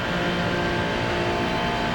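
A race car in a racing video game roars past with a loud, sustained engine drone and rising pitch, filling the whole moment.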